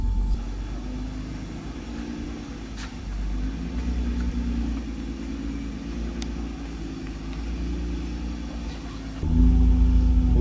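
A battered Honda NSX on a test drive gives a steady low engine rumble heard from inside the car, which grows louder and heavier near the end.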